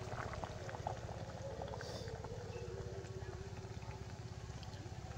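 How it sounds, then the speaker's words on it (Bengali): Soaked water poured from above into a simmering Shol fish curry, tangy with dried mango; a steady boiling, liquid wash runs continuously at moderate level with faint background noise. "ওপর থেকে জলটা দিয়ে দেব।"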